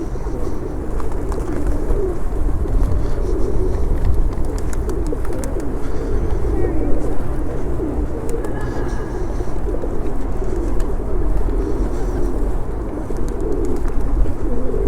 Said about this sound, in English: People love feeding the pigeons.